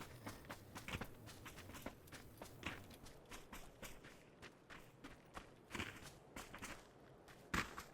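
An enemy runs in PUBG, his footsteps a quick, quiet, fairly distant patter of rhythmic steps that continues through the whole stretch without any talking.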